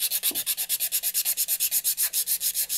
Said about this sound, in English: I would have to sand that down using a sanding tee